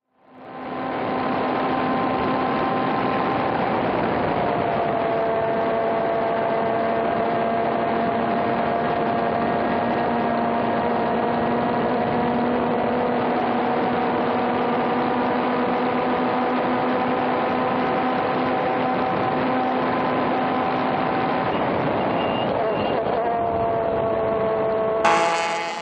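A racing car's engine at an SCCA Restricted Regionals Group 6 race drones steadily at high revs from inside the car for the whole lap, with a brief dip and shift near the end, loud and continuous.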